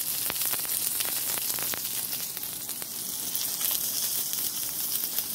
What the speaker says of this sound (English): I got my steak cooking, potatoes in the oven